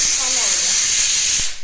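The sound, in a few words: pressure cooker hissing steam on gas stove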